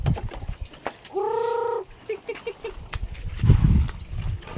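A chicken gives one drawn-out, fairly close call followed by a few short clucks, set against outdoor rustling and scattered low thumps.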